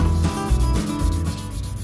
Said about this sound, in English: he start to sanding and making shining all propeller, blade and the body of the propeller.